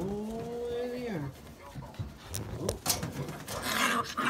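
Young Scottish Terrier puppies pant and yap in short, scattered bursts close by, mixed with a person talking to them.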